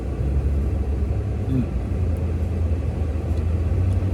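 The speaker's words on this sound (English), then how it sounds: "The highway behind us is pretty busy though. A lot of cars going back and forth." Busy highway traffic behind an outdoor spot, a steady low rumble of cars passing back and forth, continuous and fairly loud at a moderate distance.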